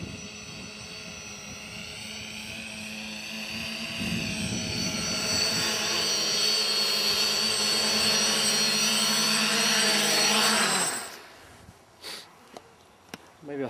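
A multicopter on a KK black-board controller flies with its motors and propellers whining steadily, swelling louder for several seconds and then cutting out abruptly, leaving faint knocks and quiet background.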